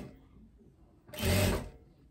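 A home sewing machine stitches a teddy coat collar to its lining in one short, close burst of whirring running for about half a second, with quiet handling before and after.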